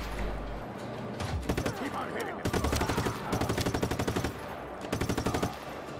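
Rapid automatic gunfire from the video game Just Cause 3 rattles in repeated dense bursts with short gaps, loud and close, with a voice talking over parts of it.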